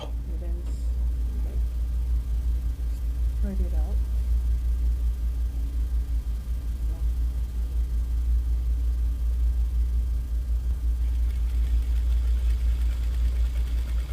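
A sewing machine runs steadily as elastic is stitched onto the sleeve of a kaftan, giving a continuous low motor hum throughout, with a voice speaking over it.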